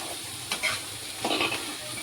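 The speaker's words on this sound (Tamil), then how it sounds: "பீன்ஸு, கேரட்டு, குடமிளகா எல்லாத்தையும் எண்ணெயில் போட்டாச்சு." Beans, carrot and capsicum stir-fry in hot oil for egg and vegetable fried rice, a steady close sizzle broken by a couple of brief scraping stirs.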